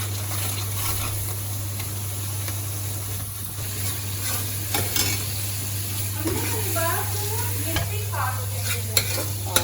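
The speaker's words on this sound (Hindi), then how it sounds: "अच्छे से ये सारा मसाला मिक्स हो जाए" Masala with turmeric and crushed red chili is stirred and fried in a pan, giving a dense continuous sizzle with repeated scraping strokes over a low steady hum. A faint voice comes in briefly partway through.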